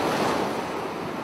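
Water churns in swirling eddies and waves on the Dordogne river, a steady loud rushing wash with a windy hiss, brief and unbroken.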